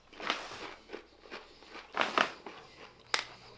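Plain standard tortilla chip bitten and chewed up close, a sharp opening crunch followed by several irregular crisp crunches of chewing.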